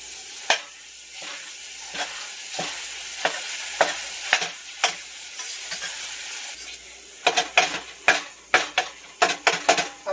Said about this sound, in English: my ground beef is pretty much fried right now at this point.